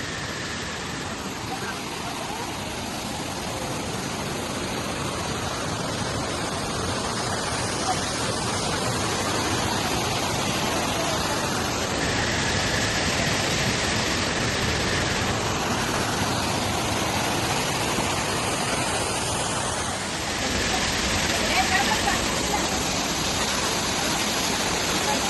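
Rushing water of a waterfall near Chikkamagaluru, a steady broad roar that holds for the whole stretch with small swells, like someone standing close to the falls.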